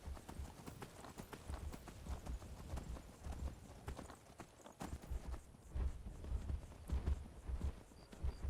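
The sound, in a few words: horse hooves in video game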